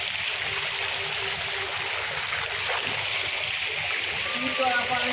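Water pours and splashes continuously in a broad, steady rush at a seaside bathing spot where people are swimming, with voices and shouts mixed in over the noise.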